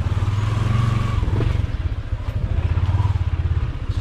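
A motorcycle engine runs steadily while being ridden, a loud continuous low drone with a slight dip and swell in the middle, no talking over it.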